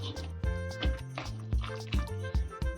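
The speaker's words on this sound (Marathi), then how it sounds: "थोडंसं आणखी पाणी घालते." Water poured into chickpea flour (besan) batter, giving soft liquid trickles and drips over a steady low hum, fairly quiet and close.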